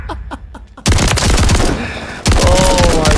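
An automatic shotgun fires in a video game, loud dense bursts of rapid booming shots in two long volleys after a brief quieter lead-in, close and overpowering.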